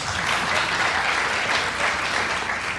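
A stand-up comedy club audience bursts into applause, a thick, continuous wash of clapping and crowd noise that holds at full strength for the whole few seconds, with no voice on top.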